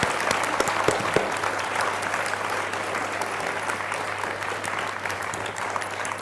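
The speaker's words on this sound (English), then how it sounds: "So, round of applause, thank you." Festival audience applauding at the close of a documentary festival talk, steady dense clapping filling the space evenly for several seconds, moderately loud with a low hum underneath and no voices.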